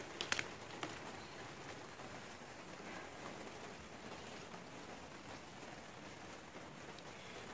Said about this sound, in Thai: ตอนนี้ฝนตกจ้ะ